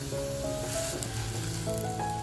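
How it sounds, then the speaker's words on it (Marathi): A banana-leaf parcel of bitter gourd fish sizzles steadily on a hot, unoiled griddle, a continuous crackling hiss with a faint tonal hum beneath. "बघा तेल न टाकताच मी तव्यावर ह्या पोटला ठेवते आहे"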